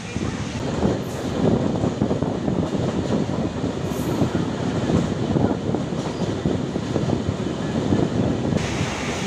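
Steady rumble of the Pallavan Express running between Chennai Egmore and Karaikudi, heard from inside a coach as a loud continuous roar with rattling that never lets up.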